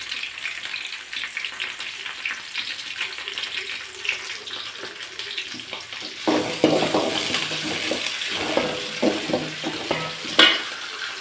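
Oil sizzles in a pan, steady at first, then louder crackling and spattering with scraping stirs as mustard seeds and onions hit the hot oil.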